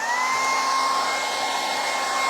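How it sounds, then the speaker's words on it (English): A hair dryer blows loudly and steadily at close range, drying paint on a wooden sign, a constant whooshing roar with a thin motor whine, no breaks. "now we can just hit that with a hairdryer"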